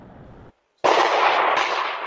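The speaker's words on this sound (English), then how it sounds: "The sound of gunfire ringing out on the Strip early Sunday morning" Gunfire on the Las Vegas Strip early on a Sunday morning, picked up by a Ring doorbell camera. A muffled burst is followed by a brief silence, then a loud, sustained crackling blast of noise.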